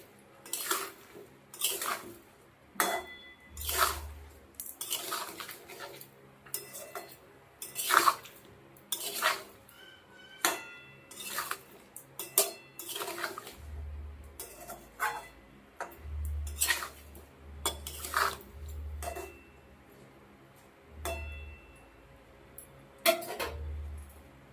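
Stirring of a tangy-sweet mango pickle in a pan, with repeated metallic clinks and scrapes of a spoon against the pan in irregular bursts, close and moderately loud, with no talking.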